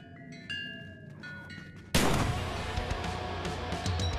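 Gunfire in the VR zombie shooter Contractors: after a quiet stretch of faint game sounds, a sudden loud burst of shots erupts and rolls on in dense, echoing blasts to the end.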